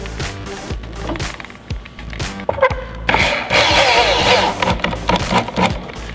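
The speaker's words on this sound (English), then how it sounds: "Drive a screw through there." A power driver sinks a screw into wood, a loud whirring burst that swells from mid-clip and holds steady, following earlier scattered knocks and handling clatter.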